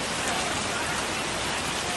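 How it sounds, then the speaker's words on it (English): Torrential rain pours down on a small island in Samoa during a storm, a dense, steady roar of heavy drops drumming close by without pause, with no voices over it. "Absolute torrential rain."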